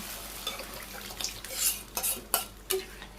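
Vegetables and lentils being stirred in a cooking pot for a Bangladeshi village-style papaya vegetable dal, with a steady scraping hiss broken by several sharp utensil knocks against the pot, close and alone.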